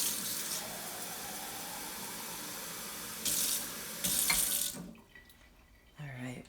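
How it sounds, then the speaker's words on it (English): Cold water runs from a sink tap into cups, a steady broadband rush with brief louder surges, stopping near the end before faint handling sounds. "We're gonna fill these cups up about 3/4 of the way, so not quite full. And you can use cold water for this."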